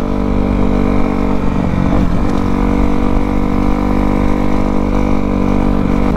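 Kawasaki KX250F dirt bike engine running steadily close by, a loud continuous buzzing drone with a slight rise and dip midway, no voices.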